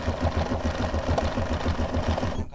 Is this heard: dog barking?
no